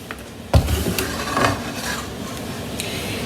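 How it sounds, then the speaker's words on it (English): Onions and garlic fry in olive oil in a pan, a soft continuous sizzle that starts with a clatter as they go in and then holds at an even level. "Fry the onions and garlic in."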